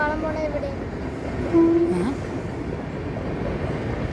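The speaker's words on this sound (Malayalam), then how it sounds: "ഇതിലും വഴി ട്രെയിൻ പോകുന്നതൊക്കെ നമുക്ക് കാണാം" A long train rolls past on the rails with a continuous low rumble, and a brief tonal horn-like note sounds midway.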